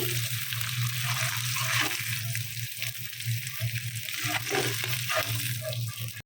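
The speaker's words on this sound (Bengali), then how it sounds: "পরের ব্যাচগুলো আমি এভাবে ভেজে নিচ্ছি" Continuous crackling sizzle of katla fish frying in hot oil in batches, steady and close, with occasional stirring scrapes.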